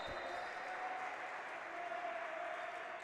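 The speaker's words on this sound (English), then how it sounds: "Now look at the encouragement on the bench for UST, applauding Alaw" Basketball bench players of a college team applaud steadily in a gym, a dense continuous patter of claps heard at a distance for about three seconds, with a faint crowd murmur beneath.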